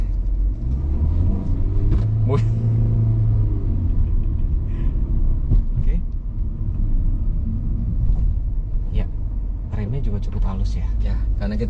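A Hyundai Stargazer X 2023 accelerates in sport mode with traction control switched off. A steady, loud low engine rumble runs throughout, while people talk over it inside the cabin.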